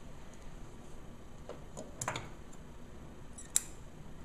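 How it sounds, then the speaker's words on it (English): Scissors trimming lace along the edge of a hat for a bereavement gown: a few faint, close snips and small clicks spaced through otherwise quiet air, one sharper cut near the end. "Trim the lace even with the edge of the hat."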